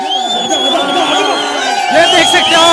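Village crowd at a cricket final cheering and whooping for the winning team captain, with shouting children and overlapping voices forming a loud, continuous outdoor roar.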